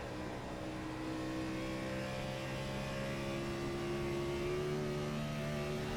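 A race car engine drones steadily and rises in pitch as it accelerates out of a banked corner on an oval track, a sustained close whine with no voices.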